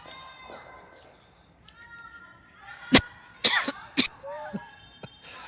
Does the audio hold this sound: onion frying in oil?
no